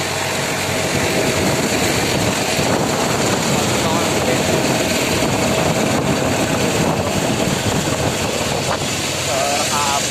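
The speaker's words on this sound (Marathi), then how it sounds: "हा ट्रॅक्टर चालू आहे" A tractor engine runs at a steady, loud drone close by at a well where excavation work is underway, unbroken throughout, with faint voices now and then beneath it.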